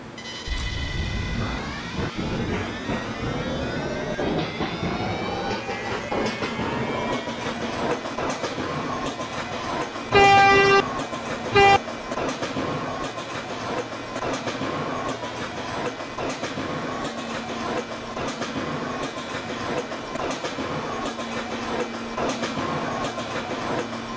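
An R143 Siemens subway train on an L line in a Roblox game, steady rolling rail noise and motor hum throughout, with a brief pair of chime-like tones partway through.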